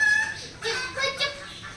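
A few soft, high clucks from a rooster come in short bursts, fairly quiet and close.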